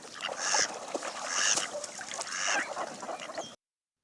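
A mallard duck gives loud, close quacks in three clear bursts about a second apart, nasal and honking, with no other sounds behind them.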